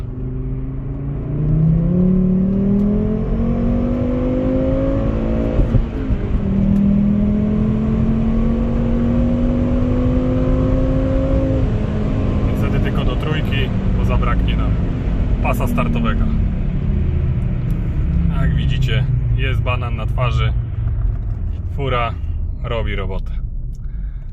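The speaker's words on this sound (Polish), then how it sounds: "No I nagrywamy przyspieszenie auta." A manual 2004-style Volvo S60 T5 with a 2.4 turbo engine of 260 hp accelerates hard, its engine note rising through gears with a clear shift drop, heard from inside over road rumble, while someone talks briefly near the end.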